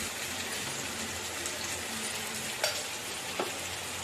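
Tomato pickle mixture with tamarind, turmeric and chili powder being stirred in a pan, a quiet steady simmering sizzle with a few soft spoon clinks on the rim, no voices.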